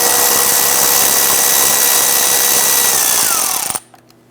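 A loud, steady power-tool whir drives out the 8mm screws along the bottom of the radiator on a 2011-2019 Ford Explorer, then winds down and stops abruptly near the end.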